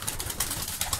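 Low, continuous cooing from a large flock of about two hundred pigeons, Kanat Postalar, Malatya and double-crested birds, with throaty murmurs overlapping and brief brighter rustles, close and steady throughout.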